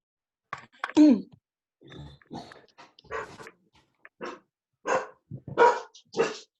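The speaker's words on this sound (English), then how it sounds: "Margot, if that's your dog, we can hear your dog." A dog barks and grunts in irregular bursts through a video call connection, the sounds close and compressed, with no one speaking over them.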